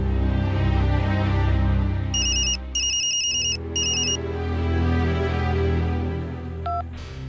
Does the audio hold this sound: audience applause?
no